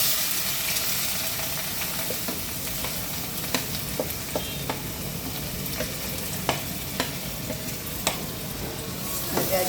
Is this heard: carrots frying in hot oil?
yes